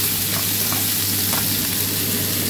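Ingredients sautéing in a hot pan for escabeche pampano, a steady dense sizzle with faint stirring scrapes, loud and continuous with no voices.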